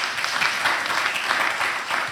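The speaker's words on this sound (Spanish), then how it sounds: "Un aplauso para nuestros exponentes, hermano." An audience at a debate event in Madrid applauds the speakers, giving a short burst of steady, even clapping from a modest crowd that holds at moderate volume throughout.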